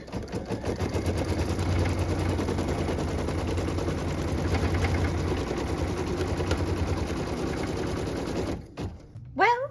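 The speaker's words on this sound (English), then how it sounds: "So I'm going to go ahead and stitch now the cut line so that piece number 14 can join our block" A sewing machine stitches quilt fabric pieces along a cut line to join a piece into a Citrus quilt block, running as a steady, rapid mechanical whir for about nine seconds before stopping abruptly, with brief handling sounds at the end.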